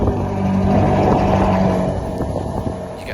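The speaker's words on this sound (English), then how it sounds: "here's a little clip now of the last ever cold start I did with it" Ferrari 488 Spider engine at cold start, a loud, steady high idle drone that holds strong, then settles slightly lower toward the end, alone with no talk.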